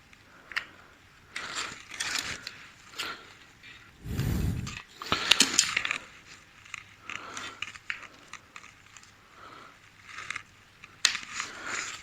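Scissors snip across a strip of cloth tape during a Vauxhall Nova SR C20LET intercooler repair, a few close crisp cuts and crunches spread through an otherwise quiet workshop, no talking.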